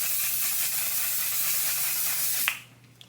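Setting spray misted onto a made-up face, heard as a continuous close hiss lasting a couple of seconds that stops abruptly, followed by near silence.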